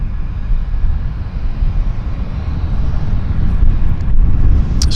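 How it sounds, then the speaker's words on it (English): A Cessna 152 light aircraft passes overhead near Vancouver Airport, its engine a steady low drone that swells slightly toward the end, heard alone without talk. "we've got a Cessna, guys. He's a 152. He's sneaking in right here on top of my head."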